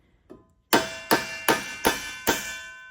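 A copper rivet for a custom copper skillet takes five sharp, evenly spaced hammer blows after a faint light tap, each strike a crisp, ringing metallic crack that is close and loud.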